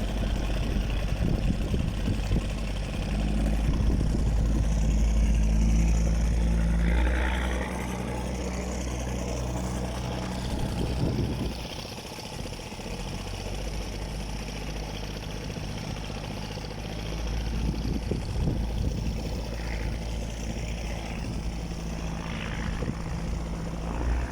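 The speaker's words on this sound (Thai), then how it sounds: "เครื่องยนต์ก็ติดกระหึ่มอยู่บนแพ" A boat engine running on a raft drones steadily nearby, a low throbbing hum that swells and eases slightly over a long continuous run.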